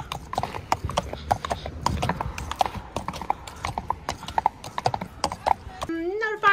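Horses' hooves clip-clop steadily on a hard stable floor as the meadow horses are led in, a busy overlapping walking rhythm close by, with a brief whinny-like call at the end.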